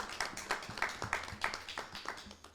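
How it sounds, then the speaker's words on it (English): A roundtable audience gives the panel a round of applause: quiet, fairly rhythmic hand claps from a small crowd, heard at a distance. "please, round of applause for you all"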